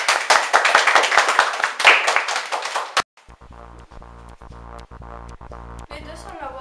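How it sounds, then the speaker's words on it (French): A burst of applause with many hands clapping for about three seconds, then stopping abruptly, followed by quieter room sounds. "on applaudit Copernic"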